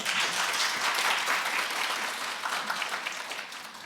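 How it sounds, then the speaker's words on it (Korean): Large conference audience at a guardianship convention breaks into full applause, a thick wash of many hands clapping together that starts strong and slowly thins toward the end. "다시 한번 큰 박수 부탁드리겠습니다"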